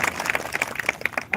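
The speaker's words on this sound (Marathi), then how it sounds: "जोरदार टाळ्या वाजवा, जोरदार" Audience clapping at a Marathi devotional gathering, an Akhand Harinam Saptah Dnyaneshwari recitation ceremony in Kolwadi, Pune, heard as short, fairly steady applause with scattered sharper claps and no talk over it.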